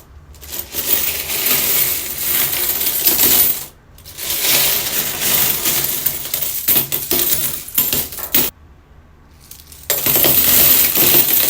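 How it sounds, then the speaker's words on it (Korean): Coins from a piggy bank saved for two years pour out in a loud, dense metallic jingling cascade, with several rattling bursts broken by short quiet gaps. "여러분 동전을 세어보도록 하겠습니다"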